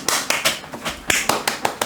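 A handful of people clap sharply and irregularly at a live radio show recording, about a dozen close, crisp hand claps in quick uneven bursts with no talking.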